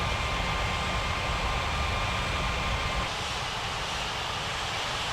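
Aircraft engines drone steadily as planes taxi at Ngurah Rai Airport in an air traffic control game, a dense, loud roar with constant broadband noise that eases slightly partway through, with no talking.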